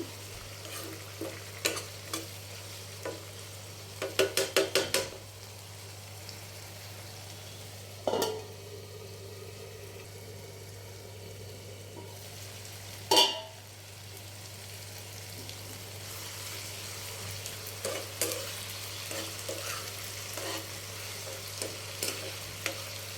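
Tomato curry fries quietly in a pan under a steady low hum, with a few scattered stirring scrapes and clicks, including a quick rattling burst early on and two sharper knocks later.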